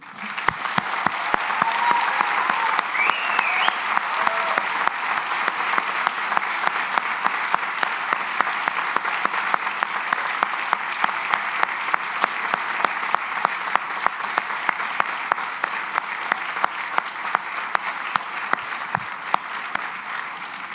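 Sustained applause from a ceremony audience fills the hall, a dense steady wash of clapping that holds evenly loud from start to finish at a medical and dental school white coat ceremony.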